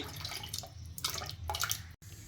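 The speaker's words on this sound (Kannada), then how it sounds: "ಹಾಗೆ ಈ ಹುಣಸೆ ಹಣ್ಣಿನ ಜ್ಯೂಸ್ ಕೂಡ ಹಾಕೊತಾ ಇದ್ದೇನೆ" Tamarind juice splashes into a pot of water for an okra (bendekai) pulimunchi, heard as a short, close, quiet pour that stops briefly near the end.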